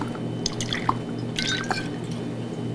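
Liquid is poured from a bottle during bartending practice, giving splashy, dripping pours in short bursts over a faint background hum, close and moderately loud.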